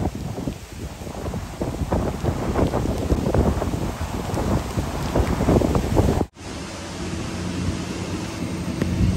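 Strong waves churn along the Manila Bay baywalk with a loud, continuous roar, heavily buffeted by wind against the microphone and broken by a brief dropout partway through.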